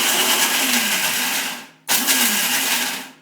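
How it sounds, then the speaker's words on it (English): A Vitamix blender roars loudly as it grinds dry puppy food, stops for a moment, then whirs again at full power. "It's going to be kind of loud right now. And this is my dry Vitamixer."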